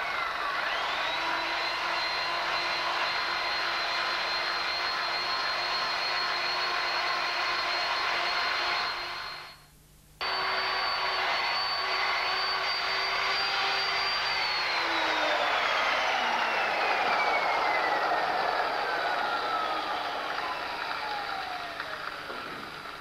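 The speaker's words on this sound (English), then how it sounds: "we've got the polish machine with a foam mop head on it" A polishing machine with a foam mop head runs steadily on a car body, a loud continuous whine that briefly cuts out mid-way, restarts, and then its pitch slowly falls as it winds down.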